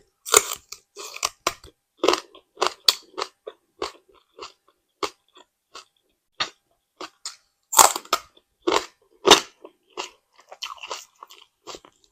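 Someone bites and chews fresh green onion close up, with crisp crunches and snaps repeating irregularly throughout in an otherwise quiet setting.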